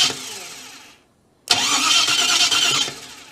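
A Holden HK car engine cranks and catches, loud and close, with a brief pause before it fires into a steady running roar that holds for over a second and then drops.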